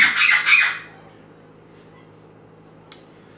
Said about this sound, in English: I think the birds are going to start shouting any minute now